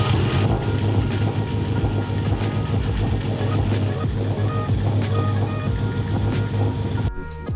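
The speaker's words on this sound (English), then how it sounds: "car's running pretty good" A Mitsubishi Evo X engine idles steadily up close, a continuous low rumble with a constant hum and faint ticking, before cutting off sharply at the end.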